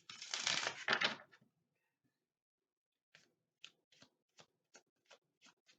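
Tarot cards being shuffled, a dense papery riffle up front followed after a pause by a series of short, evenly spaced card snaps, close and fairly quiet with no talking.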